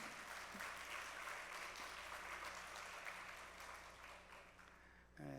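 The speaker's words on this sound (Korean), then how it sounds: "이럴 때 박수 한번 쳐줘야 되는 거 아니에요?" A Korean church congregation claps during a Sunday sermon to welcome a newly converted member, with sustained, faint applause spread through the sanctuary that tapers off near the end.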